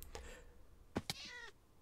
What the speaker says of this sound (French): quand je tombe, ça fait un bruit de chat